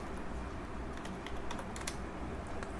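Quiet, quick keystrokes clatter on a computer keyboard in a soft, irregular patter of taps with no voices over them.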